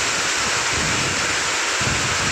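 Heavy rain drums down in a constant, loud wash of noise, nearby and uninterrupted.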